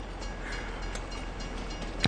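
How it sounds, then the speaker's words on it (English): Long freight train rolling past a crossing in Farming Simulator 22, a steady, fairly faint rumble of wagons with a short sharp sound near the end and no talking. "We just have to wait for the long train now."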